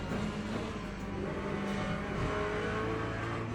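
A race car tears around Monza in a racing video game, the engine a loud, dense, continuous roar that holds steady throughout.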